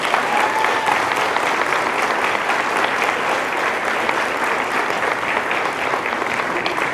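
Steady, dense applause from a crowd honoring top graduates at a high school senior night, loud and sustained throughout with no speech over it.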